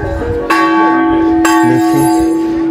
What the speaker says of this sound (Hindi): इतना बड़ा घंटा है, इसको बजाते हैं।